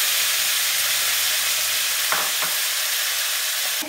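Ground beef frying in butter, a loud, steady, close sizzle with a couple of brief spatula stirs partway through and no voices.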